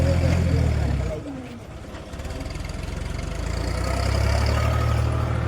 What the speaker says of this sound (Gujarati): આપણું ટ્રેક્ટર પાછું લાગી ગયું